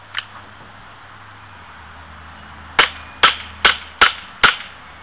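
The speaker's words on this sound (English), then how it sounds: "I'm going to do 5 in semi-auto and then 10 in fully automatic" A KSC Glock 18C airsoft pistol fires five semi-auto shots, sharp close snaps spaced about half a second apart, with a faint click just before them.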